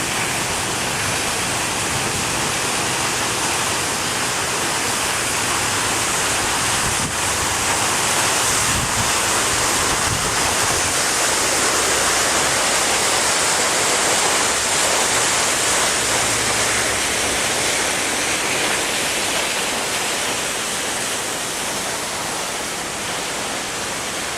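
Floodwater pours through a residential street cul-de-sac with no outlet to the roadside ditches, a loud, steady broadband rush that fills the whole recording without letup.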